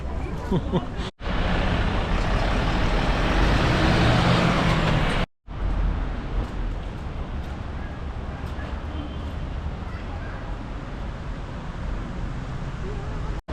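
Tour bus idling in Berlin before departure, a steady broadband engine rumble heard from close by, continuous apart from two short breaks, with no voices over it.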